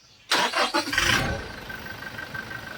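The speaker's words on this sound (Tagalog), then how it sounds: "Ilagay ko na itong engine cap tapos pwede ko nang pa-start itong makina." A Toyota Innova engine just after an oil change cranks in a quick burst of stuttering turns, catches with a loud roar, then settles into a steady idle hum.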